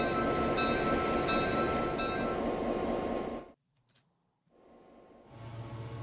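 Train rolling along in Transport Fever 2 on a B&O Mountain Division lumber line: a steady, dense rumble with clanking wheel tones that cuts out abruptly, then a softer rumble returns after a brief near-silence.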